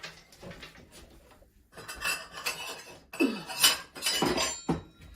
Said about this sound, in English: I'm just gonna grab a glass.